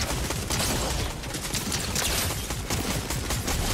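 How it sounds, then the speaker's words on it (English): Rapid video-game gunfire in a ruthless online match, dense bursts of shots crackling continuously and loudly throughout with no pause. "They're trying to use guns on me."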